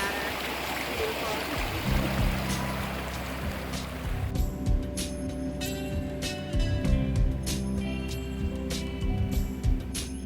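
A river flows through temperate old-growth rain forest in the Olympic region, a steady broadband rush of water that stays close and continuous while voices and other sounds join partway through.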